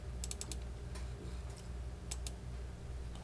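Sharp, quiet clicks from a computer mouse at an Arduino programming workstation: a quick run of four or five near the start, then single clicks and a pair later, over a steady low background hum with no talking.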